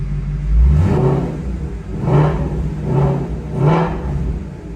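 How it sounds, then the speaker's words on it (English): Ford Mustang Shelby GT350 V8 with a modified exhaust, close and loud, giving three or four short blips of the throttle over a deep rumbling idle, each rev rising and falling quickly. "Maybe some baby revs."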